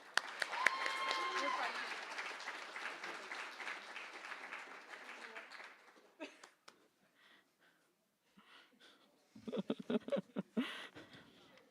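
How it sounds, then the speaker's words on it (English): Applause from a crowd at a student leadership awards ceremony fills the first six seconds, a dense steady clatter of clapping that fades out, followed by scattered noises and brief talk. "But Jerry, give him a round of applause."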